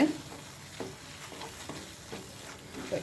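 Mushrooms and onion sautéing in a pan for a mushroom thokku, with a steady sizzle and rhythmic stirring strokes of a spoon against the pan, close and moderately loud.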